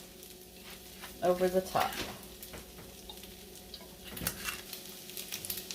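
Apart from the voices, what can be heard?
Spam fried rice frying in oil and stirred with silicone spoon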